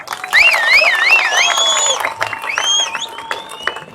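A large crowd at an outdoor political rally in Tamil Nadu cheers and whoops steadily, with shrill whistles and excited shouts rising over the roar for several seconds at close range.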